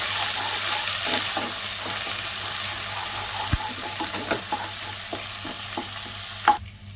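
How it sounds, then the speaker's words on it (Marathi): Green masala paste with hing sautés in oil for masvadi, a dense, even sizzle close up, with soft spoon taps and scrapes scattered through it and one sharper knock near the end. "घालूया थोडंसं हिंग मसाला आहे ना आपल्याला चांगला परतून घ्यायचं आहे तेलावर"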